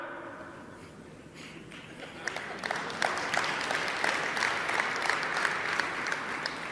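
Audience applause at a motivational education talk, a dense wash of many hands that swells after a couple of seconds and holds steady, loud and continuous with no voices over it.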